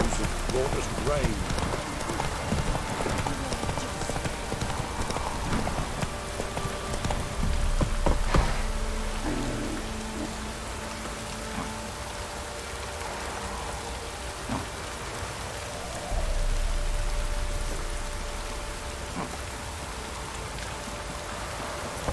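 Steady rain falls in The Witcher 3: Wild Hunt, a soft hiss under a horse's clip-clop, with occasional spoken dialogue and background game sounds.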